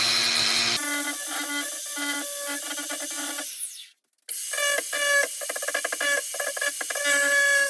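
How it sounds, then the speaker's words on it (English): An angle grinder grinds down nails on the bottom of a homemade wooden stool, giving a loud, steady whining buzz that cuts out briefly partway through, then resumes with rougher, chattering grinding. "I am grinding down all the nails on the bottom with my favorite tool, the angle grinder"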